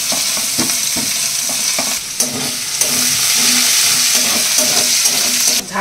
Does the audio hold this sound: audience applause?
no